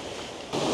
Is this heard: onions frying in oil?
no